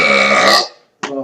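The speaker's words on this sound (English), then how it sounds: "Man burp." A man lets out a long, loud, close burp that fades away, then after a brief pause a second burp begins.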